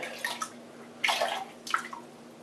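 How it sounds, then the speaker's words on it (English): Three short bursts of water splashing and dripping from a shaving brush being knocked out, close by and spaced about half a second apart, over a quiet background hum. "knock out some of the water on the brush"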